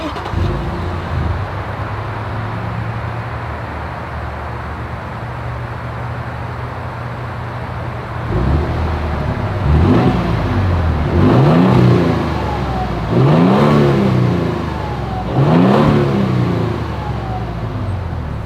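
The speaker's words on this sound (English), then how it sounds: "As always, here is that exhaust clip." Exhaust of a Toyota Tundra pickup idling with a low, even rumble, then revved four times in quick succession, each blip rising and falling loudly and close by.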